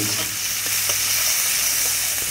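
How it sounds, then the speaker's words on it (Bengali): Chopped onions sizzle steadily in hot oil in a pan, with a constant close frying hiss and faint stirring clicks, no voices. "কেটে রাখা পেঁয়াজ দিচ্ছি, পেঁয়াজটা একটু ভাজা ভাজা হওয়ার অপেক্ষা করব"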